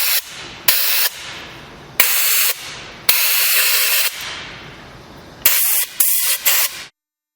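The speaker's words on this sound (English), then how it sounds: "now we have the ability to blow powder out of the gun using our blow-off gun" Compressed air from a blow-off gun blasts powder out of an OptiSelect Pro manual powder coating gun, in a series of loud hissing bursts of varying length separated by short pauses, close up with no talking.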